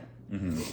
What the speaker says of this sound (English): Our dogs are outside, so if you hear that in the background